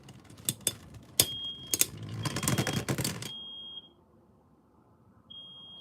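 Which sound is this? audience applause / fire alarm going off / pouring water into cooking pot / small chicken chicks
fire alarm going off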